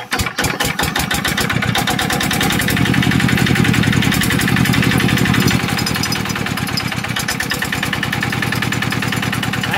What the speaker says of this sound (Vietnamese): Mình làm sao mà quay nghe nó bơm cốc cốc là nó sẽ chạy à.